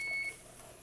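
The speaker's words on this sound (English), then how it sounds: "Turn off my timer here" A kitchen timer beside a pressure canner simmering on a stovetop gives one short, steady electronic beep, followed by faint room hiss.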